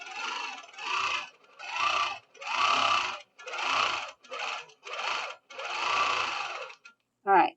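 A Handiquilter longarm quilting machine stitches curvy patterns in rapid bursts, each run lasting about half a second to a second with brief pauses between, close and fairly loud.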